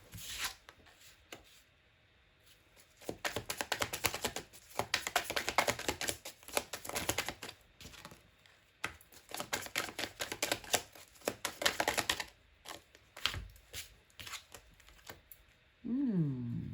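Tarot cards gathered and shuffled by hand, giving repeated bursts of quick riffling and flicking, soft and close, separated by short quiet gaps, with a brief low noise at the very end.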